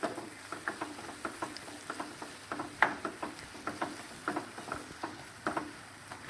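Half a bowl of chopped capsicum tossed into a pan with onions and sautéed for paneer gotalo: close, rhythmic spatula scrapes and light sizzling crackle repeat steadily throughout, with no talking.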